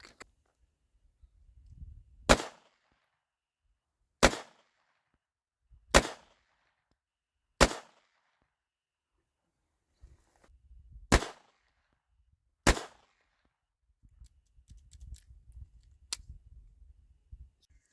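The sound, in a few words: Mauser 1917 pistol firing 32 ACP FMJ rounds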